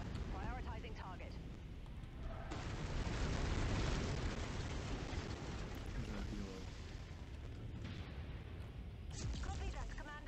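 Fuel reserves exploding in the video game MechWarrior 5, a sustained loud roaring blast with rumbling low booms and crackle, under intermittent radio-style voice chatter.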